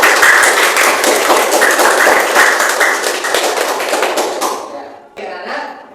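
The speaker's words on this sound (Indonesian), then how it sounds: "Ya, tepuk tangan untuk kita semua." A classroom of students breaks into loud, dense clapping that fills the room, then tapers off and falls away into scattered claps near the end.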